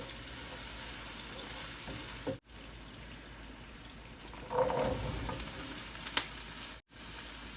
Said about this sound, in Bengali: কিছুটা এখন আমি ভাজি করব ব্রকলি ফুলকপি গাজর আলু দিয়ে